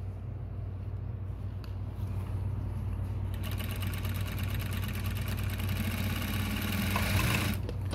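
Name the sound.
New-Tech GC-8700 industrial sewing machine sewing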